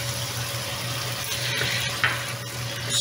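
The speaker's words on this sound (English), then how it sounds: "Let's add our soy sauce and Shaoxing rice wine." Soy sauce and Shaoxing rice wine hit hot seafood in a pan, giving a steady close sizzle and frying hiss with light stirring scrapes and a brief clink, and no voices.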